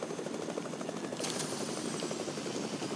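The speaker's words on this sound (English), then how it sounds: "Chopper landing." A helicopter in a video game makes a steady, fairly quiet rotor thump and whine as it comes in to land, continuous throughout with no speech.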